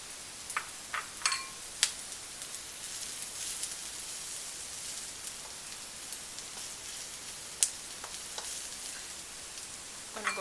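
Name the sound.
mushrooms and vegetables sizzling in a pan in vegan stir fry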